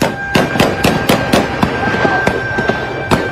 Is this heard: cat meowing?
no